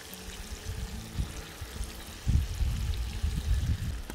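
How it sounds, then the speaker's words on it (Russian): Tomato poured over layered meat and spices in a cauldron over a campfire for Georgian chakhokhbili: a soft, steady liquid glug and splash that thickens partway through, close and fairly quiet, with no talk. "И выливаю сверху томат."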